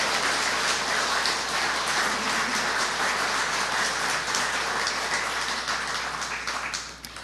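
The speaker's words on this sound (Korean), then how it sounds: "큰 박수 한번 다시 보내주시기 바랍니다" Congregation applause at a church thanksgiving service marking a Christian TV station's anniversary and new co-presidents' inauguration: a thick, continuous wash of clapping that holds steady, then fades slightly at the end.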